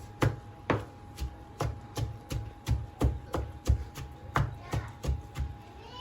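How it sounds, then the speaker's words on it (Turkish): A knife chops on a board in a steady rhythm, about two strikes per second, close and crisp. "doğramaya devam ediyoruz."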